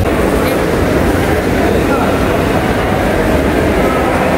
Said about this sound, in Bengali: এই হলো চট্টগ্রাম রেল স্টেশন পুরাটা।